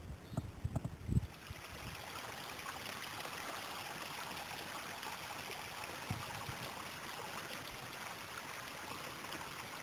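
Creek water flows steadily in a continuous rushing wash, close and even, after a few brief footstep-like thumps at the start.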